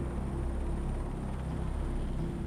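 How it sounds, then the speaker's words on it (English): A helicopter hovers just above a ship's deck over a hatch cover during Antarctic cargo work, producing a steady, dense rotor and engine rumble that fills the whole stretch without a break. "the helicopter had to maneuver over the hatch cover where the load was waiting, and then go into a hover just above deck"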